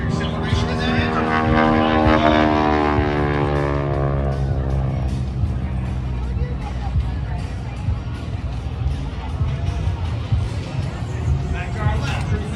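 A low, fast pass by an aircraft at an air show roars past, its engine tone sweeping downward as it goes by, with excited spectators' voices and cheers mixed over a continuous crowd-and-engine din.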